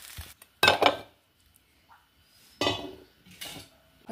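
Curd upma being spooned from a pot into a bowl, with a few distinct scraping clinks of the spoon against the vessel at the start and again near the end, separated by near-silence.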